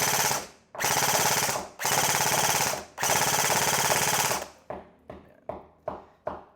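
An airsoft rifle fitted with an M-lock handguard fires on full auto in three long, loud, continuous bursts, then a run of short separate clicks or single shots; nobody speaks.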